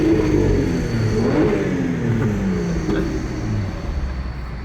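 A car's engine revs hard in sport mode with the windows down inside a tunnel, the loud, echoing drone rising and falling in pitch throughout, with no talking.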